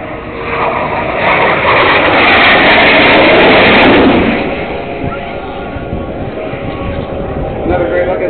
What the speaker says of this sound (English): Here's the Hornet coming over right over you